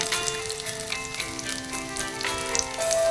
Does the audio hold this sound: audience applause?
no